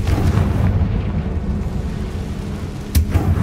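Confringo blasting spell in Hogwarts Legacy, a loud rumbling blast roar filling the whole clip with a sharp burst near the end.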